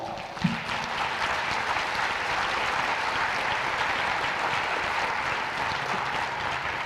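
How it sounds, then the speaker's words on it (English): An audience at a school Teacher of the Year awards ceremony applauds in a steady, even rush of many hands that holds at constant loudness for about seven seconds, with no voices on top. "Let's give all of you a round of applause."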